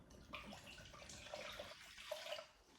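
Three-quarters of a cup of bottled water is poured for a mix, giving a faint, continuous trickling splash that lasts a few seconds without any talk.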